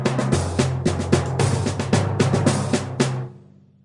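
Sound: percussion instruments, cymbals and drums, cartoon

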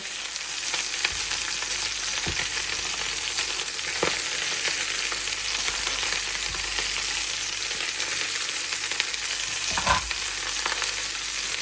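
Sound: onion and rosemary frying with pork ribs

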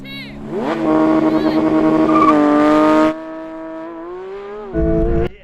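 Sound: car launching from race start

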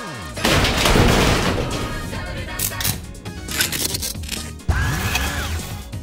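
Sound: explosion sounds

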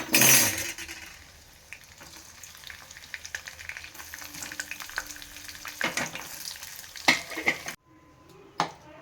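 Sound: frying paneer cubes in oil

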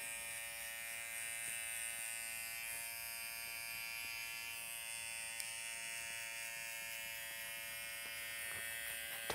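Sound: electric hair clipper cutting a fade

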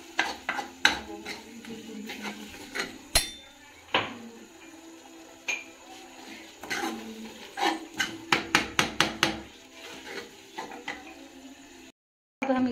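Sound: stirring ridge gourd sabzi with garam masala in a pan

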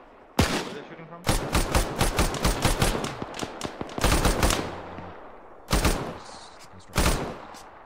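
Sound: gunfire in Arma 3 video game

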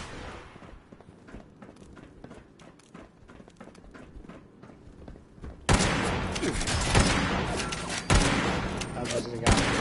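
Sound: laser weapon firing in the video game Fallout 76

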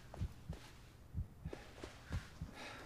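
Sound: heartbeat in the Blair Witch video game

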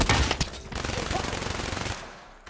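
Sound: gunshots in video game TTT, Russian roulette

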